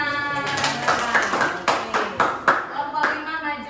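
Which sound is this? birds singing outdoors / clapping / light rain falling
clapping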